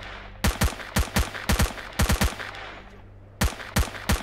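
Gunfire in S.T.A.L.K.E.R. Shadow of Chernobyl: sharp, close single shots and short bursts fired in an irregular rhythm, about a dozen cracks over a low steady background hum.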